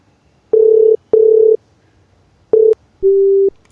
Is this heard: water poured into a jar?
no